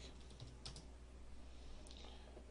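Soft, quick keystrokes on a computer keyboard, faint and close, patter in a loose rhythm over a low background hum.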